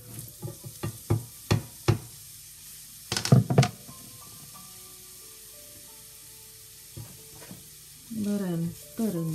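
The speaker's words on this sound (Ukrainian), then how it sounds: "І натерту моркву відправляємо до нашої" Grated carrot goes into a pan of fried onions and is stirred, giving loud scraping stir strokes in short bursts early on, a quiet stretch of soft sizzling, then a brief louder burst of frying and stirring at the end.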